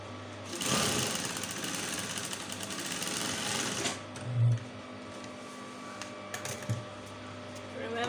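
A sewing machine stitches fabric for a corset top, running steadily for several seconds with a dense mechanical whir, then stopping briefly before quieter handling noises and a short restart.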